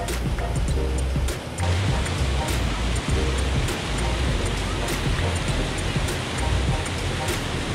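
A small waterfall near San Rafael, Paquera, Costa Rica roars close by, a dense continuous wash of falling water with no pauses, loud and unbroken throughout.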